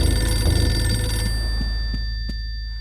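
An old-style telephone ringing inside a house in the Eternal Darkness video game: a sustained, fairly loud electronic ring over a low hum that slowly fades, with no talking.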